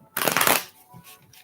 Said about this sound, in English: Let me shuffle the cards good for you.